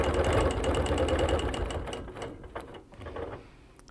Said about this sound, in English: Stop in the ditch, rotate, and continue stitching.